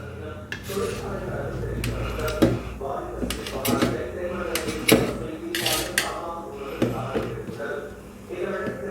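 Soft idli cut into small pieces with a knife: repeated quick knocks and scrapes of the blade on a plate or board, in uneven bursts under a speaking voice.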